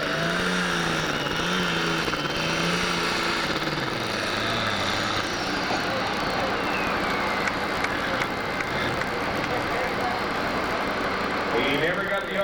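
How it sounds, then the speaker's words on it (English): A 12,000 lb Pro class pulling tractor runs at a 1998 tractor pull in Taylorville, Illinois, its engine droning loudly and steadily with rising and falling pitch throughout, while an announcer talks over it. "He'll bring the RPMs up. You'll see the white smoke turn to black"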